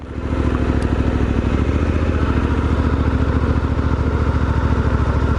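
A Suzuki V-Strom 800DE (Dirt Edition) motorcycle making a slow, tight U-turn. Its engine gives a steady, close low-speed rumble with a fast, even pulse and no throttle surges.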